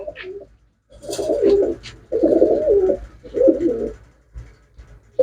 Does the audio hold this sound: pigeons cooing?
yes